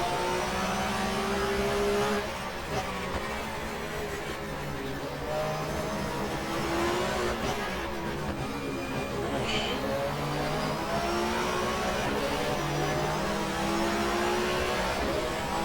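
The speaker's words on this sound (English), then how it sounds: "just trying to keep the car on track at the moment" A German touring car engine in the racing game GTR2 at Zandvoort drones continuously, its pitch rising and falling through gear changes and revs, loud and unbroken with no talking.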